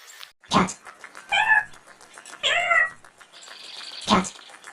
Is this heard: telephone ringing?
no